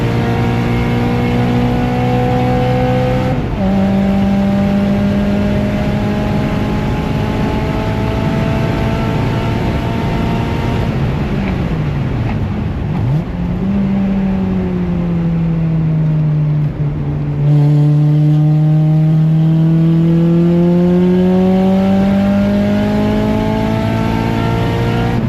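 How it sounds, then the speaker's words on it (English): A car with an exhaust leak at the flex pipe laps a race track, its loud, raw engine note climbing and dropping through gear changes, steady and close throughout. "I had an exhaust leak at the flex pipe coming into the track day"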